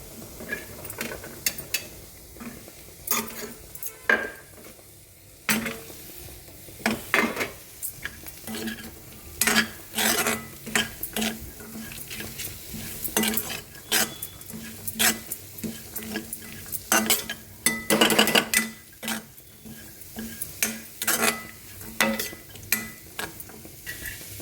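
Carrots stir-fried with fresh coconut in a pan, a spoon scraping and clanking steadily against the metal over a soft sizzle, close and continuous with frequent sharp taps, no talking.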